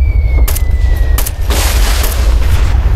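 Combat in Operation Flashpoint: Red River, with heavy booming explosions and gunfire under rumbling low noise, a few sharp cracks followed by a broad roaring blast, loud and close.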